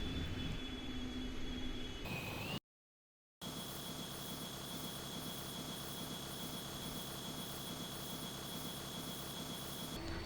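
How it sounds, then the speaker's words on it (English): A DC-10 airliner lands in the Roblox flight game PTFS, its jet engines giving a steady, loud roar with a high whine that cuts out briefly, then resumes unchanged. "let's just watch this absolutely butter landing"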